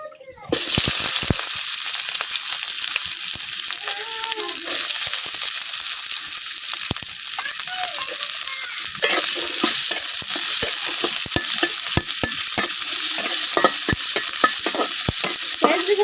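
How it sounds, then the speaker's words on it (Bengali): Onion and garlic fry in a little oil in a hot wok, giving a continuous, loud, close sizzle with occasional stirring scrapes and crackles throughout. "অল্প তেলে পেঁয়াজ রসুন কি বাজলাম আমি"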